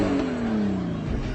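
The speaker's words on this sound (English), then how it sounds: "Number 4, Dom's RX-7 from the Fast and the Furious" The Mazda RX-7 from The Fast and the Furious revs close by, a loud, continuous engine note that sweeps slightly downward over about a second and a half.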